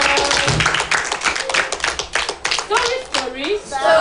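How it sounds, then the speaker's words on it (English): Clapping from a small gathered audience at a storytelling session, a brief burst of hand claps mixed with voices and chatter over about four seconds. "a round of applause for yourself."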